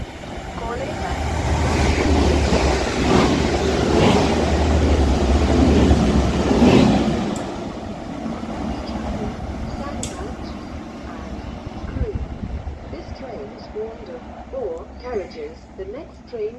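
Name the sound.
TransPennine Express Class 185 train passing through station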